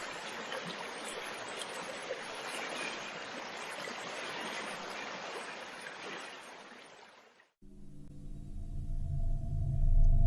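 River water flows with a continuous broad rushing wash for about seven seconds, then cuts abruptly to a low droning hum.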